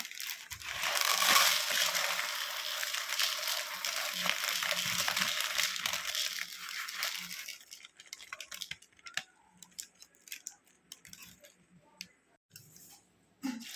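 Sago pearls washed in a bowl of water, with a dense rush of sloshing and splashing for the first seven seconds, then scattered small drips and clinks as the washing stops.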